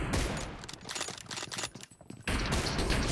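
Gunshots crackle in PUBG Mobile, rapid loud bursts blurring into near-continuous fire, dropping briefly before another close, heavy volley.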